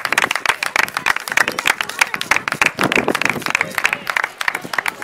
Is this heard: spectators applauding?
yes